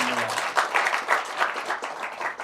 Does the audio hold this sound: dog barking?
no